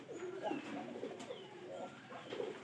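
Pigeons in a loft coo with low, soft, repeated throaty calls, several overlapping phrases heard close by but faint.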